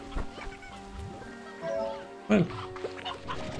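Chicken clucks from Slime Rancher 2 come in short bursts over ranch background tones, with a loud squawk near the middle while someone speaks.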